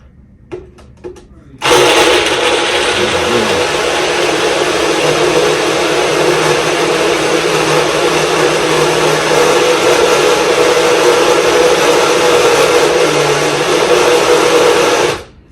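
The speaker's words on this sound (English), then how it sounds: "I like to blend my stuff in intervals" A blender whirs loudly and steadily for most of the clip after a couple of short clicks, running without pause until it cuts off at the end.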